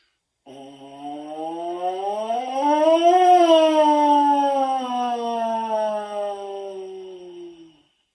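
A trombone mouthpiece buzzed alone mimics a passing fire truck siren, one smooth tone sliding up to a peak and then gliding back down, loud and close with bright overtones.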